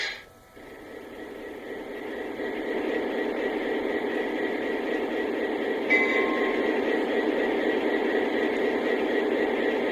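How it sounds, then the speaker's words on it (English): A model train's diesel locomotive engine sound (Lionel Legacy SD40-2) rumbles and revs up, settling into a continuous droning hum that holds steady, with a brief tonal blip partway through. "now I'm going to re-raise the engine sounds"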